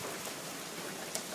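Hail pounding down hard during a storm in Michigan, a dense unbroken hiss of falling ice with one brief louder impact near the end and no voices.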